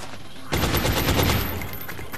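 Rapid automatic gunfire burst from the XCOM Enemy Within strategy game, starting abruptly and rattling loud and dense for under two seconds before trailing off, with no voices.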